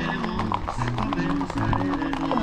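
Horse hooves clip-clopping in a quick, uneven rhythm on a road in Yauco, Puerto Rico, amid outdoor bustle, with a horse whinnying and people talking.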